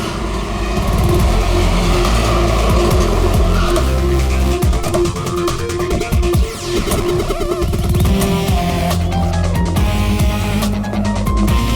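A car engine left running after a crash in a hacked vehicle, a loud continuous motor rumble mixed with dramatic layered sound effects and shifting noise, with no talk.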